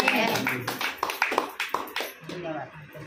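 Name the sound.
congregation clapping hands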